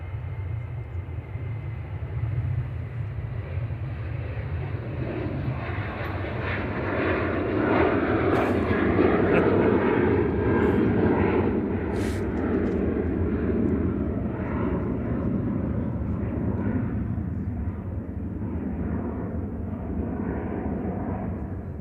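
Ryanair airliner on a flight to Dublin at Manchester Airport, a loud, sustained engine roar that swells and holds steady for around twenty seconds without voices.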